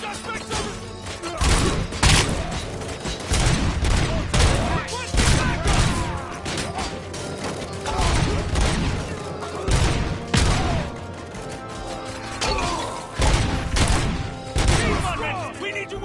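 Rapid bursts of automatic and single-shot gunfire from the RoboCop: Rogue City video game, dense and loud for the full stretch, with shouting voices and game audio mixed in around the shots.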